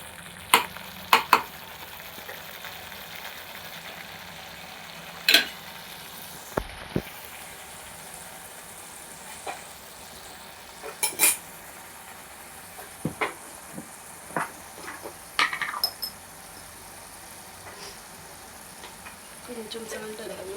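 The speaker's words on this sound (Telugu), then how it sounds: "టమాటోలో చక్కగా పచ్చివాసన పోయే వరకు కుక్ చేసేసుకున్నాము." Tomatoes cooking in a pan as the base for a prawn curry, with quiet sizzling under scattered clinks and scrapes of a spoon stirring against the pan.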